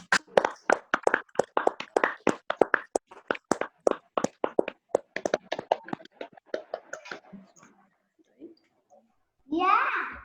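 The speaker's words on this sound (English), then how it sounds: "give a huge round of applause to all the speakers and participants of the meeting" Participants in an online club meeting clap through unmuted microphones, a rapid patter of separate hand claps for several seconds that thins out and stops, followed by a short burst of background noise.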